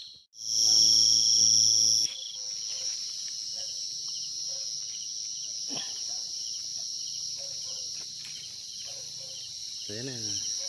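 Crickets kept for a roasted-cricket dish give a loud, piercing, continuous high chirp at close range, with scattered rustling and faint speech in the background.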